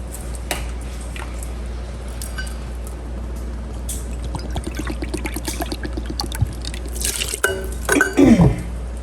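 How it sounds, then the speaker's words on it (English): Bottled lemon juice poured into a pot of mashed nectarines and peaches for jam, a soft liquid trickle and drips building to a brief gurgling splash near the end, close and quiet. "I'm gonna add a package of dry pectin and a half a cup of bottled"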